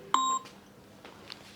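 A phone gives a single short electronic beep, sharp and near, followed by quiet background.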